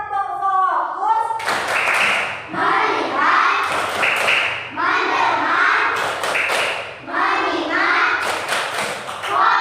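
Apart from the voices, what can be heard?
children doing the rhythmic 'tepuk fokus' clapping chant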